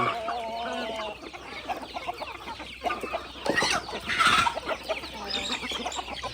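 Several local free-range chickens cluck and chatter together close by, with overlapping calls and a few louder squawks rising in the middle.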